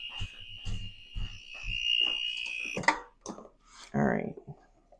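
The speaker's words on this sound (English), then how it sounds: "My alarm's going off." A personal alarm beeps in a steady continuous tone for about three seconds, then cuts off, while a person talks over it nearby.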